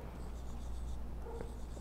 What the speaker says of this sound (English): when you write on the display, it have like a sound effect, like if a pencil writing on paper